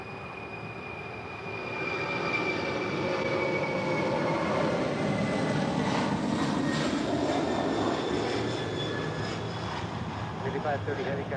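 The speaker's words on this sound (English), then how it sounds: "747-400 freighter, Atlas Airflight 8530 rolling down 25 left" An Atlas Air Boeing 747-400 freighter rolling for takeoff on runway 25 left at LAX: engine roar swells after a quiet start, then holds as a loud, sustained rumbling thrust with a whining upper tone.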